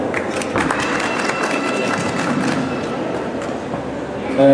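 Audience at a Portuguese lecture on the Serra da Gardunha applauds the speaker Pedro Salgado, a steady, moderately loud patter of clapping filling the room throughout, with a faint rumble beneath.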